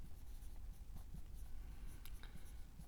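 Pen scratches across paper as someone writes by hand beside a drawing, a soft, quiet run of irregular strokes and taps, close and alone.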